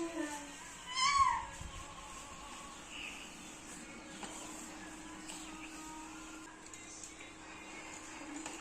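A single short cat meow sounds near the start, fairly close but soft, followed by a quiet room with low background hum and faint voices.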